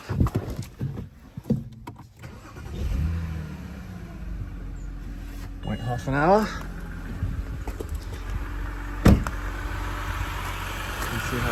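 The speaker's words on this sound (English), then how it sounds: "Start the engine." BMW 325i with the N52-B25 engine, a high-mileage car, idling steadily after a start, a continuous low mechanical hum throughout with a brief louder transient near the end, while people speak over it early on.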